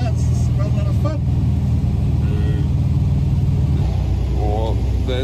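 A 1971 VW Kombi bus engine rumbling steadily, close and continuous, with voices talking over it throughout.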